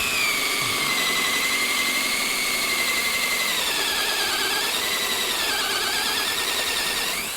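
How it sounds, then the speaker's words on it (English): Electric drill boring 35mm hinge holes in a wooden arch raised panel door, a continuous loud whining motor with shifting pitch as the bit cuts, close and alone. "we just drilled the holes for a 35mm hinge with the 2 adjacent holes to hold the inserts"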